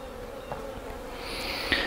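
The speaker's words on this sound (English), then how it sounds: "So I think I'll show you some close-ups of these young bees." Honey bees buzz continuously over capped brood frames in an open hive. The hum is soft and close, and a single bee passing nearby adds a louder whine near the end.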